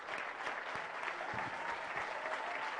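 An audience at a soil conservation event gives sustained applause, a dense, even wash of clapping from a crowd heard at a distance, with no cheering standing out.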